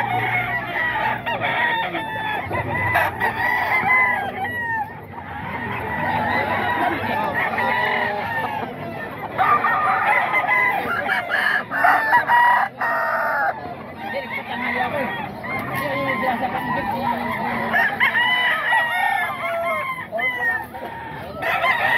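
Roosters crow again and again at a crowded market in Bocaue, several calls overlapping with clucking fowl amid steady background chatter and noise.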